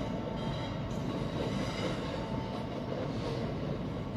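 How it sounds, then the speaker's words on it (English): A freight train rumbles past in London at a moderate distance, a continuous rolling roar of wheels on rails with faint metallic clatter, steady throughout. "There's a service train."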